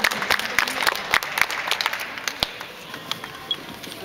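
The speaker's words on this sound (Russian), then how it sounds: "Давайте подарим девочкам аплодисменты." At a pole sport championship award ceremony, the audience gives the performers a moderate round of applause, scattered claps fading after a few seconds in a large hall.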